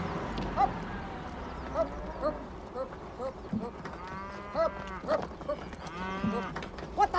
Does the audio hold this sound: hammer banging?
no